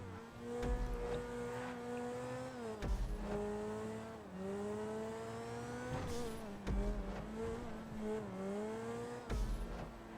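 A Grotti Turismo R supercar in a GTA race revs hard, its engine note climbing through the gears and cutting sharply at each upshift. The revs swell and drop repeatedly, with a faint tire squeal in the mix.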